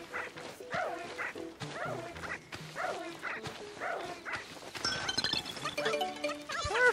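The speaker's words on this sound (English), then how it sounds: "Such a good dog." A dog companion in the Nintendo Switch game Pikmin 4 gives a run of short, close yips and barks in quick succession, with busy game effects joining toward the end.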